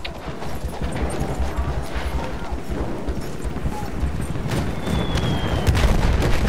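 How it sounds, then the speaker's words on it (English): Bomber ordnance explodes near a fortress in the Battlefield 1 video game, a dense battle din of low booms and gunfire with hoofbeats from a spooked horse, steady and loud throughout, rising slightly toward the end. "ordnance delivered by that bomber overhead, spooking the horse"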